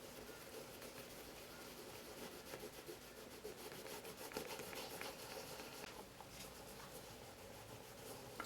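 Steady brushing and rubbing as wax polish is buffed off a refurbished, dyed leather shoe, a continuous close scrubbing texture with no speech.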